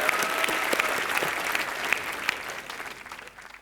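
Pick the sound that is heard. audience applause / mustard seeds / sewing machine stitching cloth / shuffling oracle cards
audience applause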